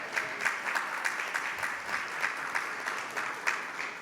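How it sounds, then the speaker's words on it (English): An audience at a public hearing in Queens, New York claps steadily and continuously for several seconds, a fairly close, even round of applause with no talk over it. "clap for that."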